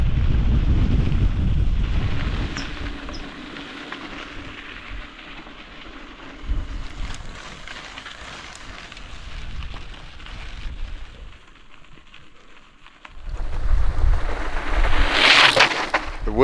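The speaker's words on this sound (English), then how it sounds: "Wind is back in full force." Strong wind buffets the microphone on a desert ride in Southern California, a loud roaring rush in the opening seconds that eases to a steady blowing through the middle and then surges back hard toward the end.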